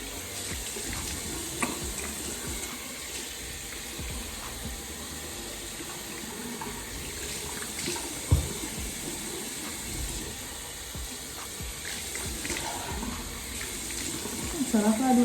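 A faucet runs hot water steadily into a sink for face washing, a continuous splashing hiss with occasional small knocks and splashes from hands in the water.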